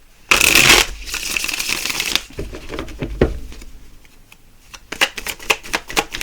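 A deck of tarot cards is shuffled in a loud riffling burst, followed by quieter shuffles, taps and card handling close by.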